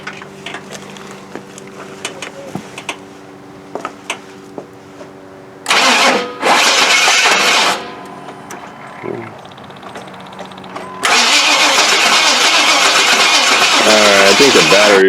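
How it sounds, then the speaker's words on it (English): A Nissan Altima with a weak battery, after a starter fault and blown fuse, cranks in a short burst, pauses, then cranks again and fires into a loud, steady running engine, recorded up close. "So let's see if it cranks up and start."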